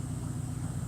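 A car engine idling smoothly with a clean air-fuel mixture, a steady low hum and rumble close up, even and unchanging throughout.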